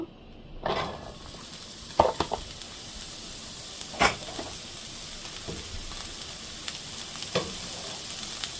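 Potatoes and chopped onion fry in oil for methi saag, a steady low sizzle broken by several clattering stirs and utensil scrapes against the pan, close up with no talking.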